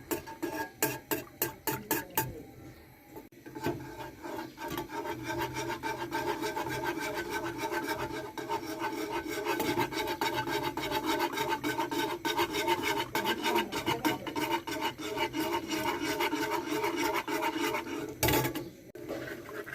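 A spoon stirring thickening milk pudding mixture in a pan, with quick scraping strokes at first, then a sustained rapid rhythmic rasping scrape against the metal that runs on alone, without speech.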